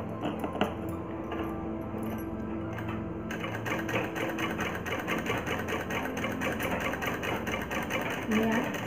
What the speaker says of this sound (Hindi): तो चलिए सिलाई करते हैं।